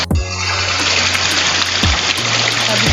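Cold drinking water gushes steadily from a spring in the fields, a loud continuous splash and rush close by, with brief low thumps as the recording device is handled.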